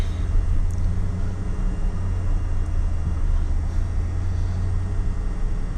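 Steady low engine and road rumble from a car being driven, continuous and fairly loud throughout with no talking.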